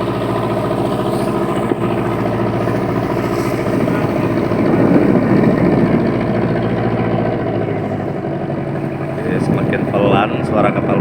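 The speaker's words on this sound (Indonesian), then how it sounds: "Semakin pelan suara kapal motornya, kita semakin mendekati dermaga." A motorboat engine drones loud and close as the boat slows near a pier, a steady low rumble that continues throughout, with faint voices mixed in.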